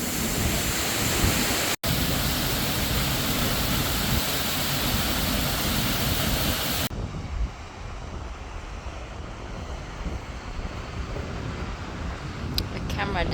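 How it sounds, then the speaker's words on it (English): A waterfall in Mongolia roars steadily as a broad, constant rush of falling water, loud and close at first, then shifting to a softer, duller tone partway through, with some wind buffeting the microphone. "And this is the waterfall."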